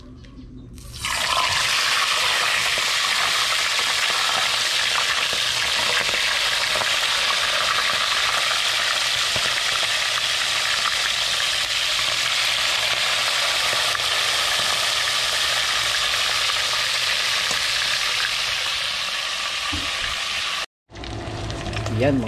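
Loud, continuous hissing sizzle of fish frying in a pan, steady for about twenty seconds, then cut off abruptly.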